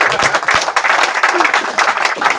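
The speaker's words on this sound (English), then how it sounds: "give them a big round of applause" Dense audience applause with clapping from a crowd fills the whole moment, loud and steady, with a few scattered voices mixed in.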